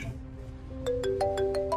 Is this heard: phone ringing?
yes